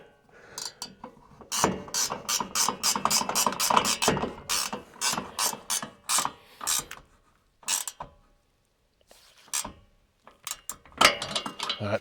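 A ratchet wrench tightening the mounting hardware on an ORO truck bed rack over a soft tonneau cover, with fast rapid clicking bursts in several separate runs and short pauses between.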